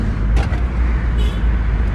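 A car drives along with all its windows down, steady low rumbling road and wind noise close by, with brief airy whooshes from passing traffic.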